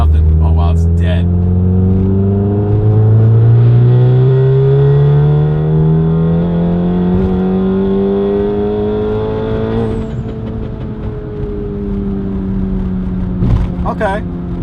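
A tuned VW Golf MK7 GTI engine pulls from about 2,000 RPM, its note climbing steadily and loudly through the rev range for roughly ten seconds, then easing off as a voice talks over it.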